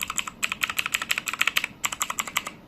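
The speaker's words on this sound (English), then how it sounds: "This is Potronics Hydra Trend keyboard that comes with Jixian blue switches." Potronics Hydra Trend mechanical keyboard with Jixian blue switches typed on in a quick run of loud, sharp clicky keystrokes, close up, with a brief pause before the typing resumes.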